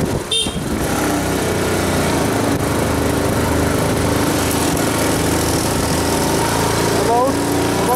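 A vehicle engine labours up a steep climb on the drive from Saligao to Mapusa, a loud steady drone filling the whole stretch with a brief shift in pitch near the start, heard from inside alongside road noise.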